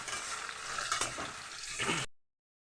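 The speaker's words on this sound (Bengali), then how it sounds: "এবার এই পেঁয়াজটা দিয়েও আমি আরও ভেজে নেব।" Chopped onion and potatoes sizzle in a pan as a utensil stirs and scrapes through them, a close, steady fry that cuts off abruptly into silence.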